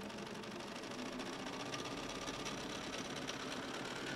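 A sewing machine stitches over fabric for a faux chenille baby quilt, giving a steady, fairly quiet mechanical whir that runs without a break and with no talking.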